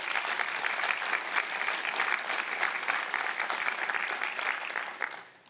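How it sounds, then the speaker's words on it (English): Conference audience at RubyConf applauding Kevin's Ruby Prize, a dense, steady roar of many hands clapping throughout before fading out at the end. "Kevin won the Ruby Prize for his work on this, which deserves an applause"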